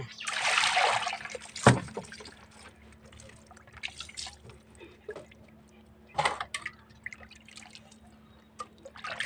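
Fish rinsed by hand in salted water for a village-style fry, with splashing and sloshing at the start, then scattered drips, trickles and small sloshes, close and fairly quiet.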